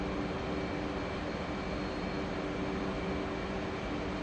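An F/A-18C Hornet jet in DCS World comes in to land, its engine a steady, dense roar with a faint constant tone running through it. It stays at an even level throughout, with no voices.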